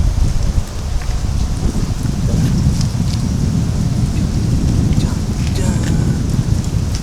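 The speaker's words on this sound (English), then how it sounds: "as you see it's raining" Steady rain pours across a fishing pier, a dense constant hiss with low rumbling thunder underneath and no voices.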